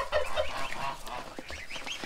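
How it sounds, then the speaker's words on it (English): Farmyard turkey calling nearby, a few short throaty honking gobbles in quick succession, moderately faint. "Uh-oh, turkey said yes."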